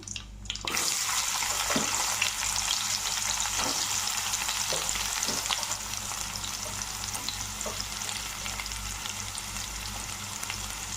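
Onions and dried red chilies fry in a pan, giving a steady, loud broadband sizzle with occasional stirring clicks and scrapes throughout, and no talking.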